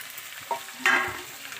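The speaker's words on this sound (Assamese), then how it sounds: "মাংসখিনি কেৰাহীটোত দি দিওঁ আৰু" Meat fries in oil in a hot wok, with a low sizzle broken by a few scraping stir strokes and a brief louder burst near the end, no talking.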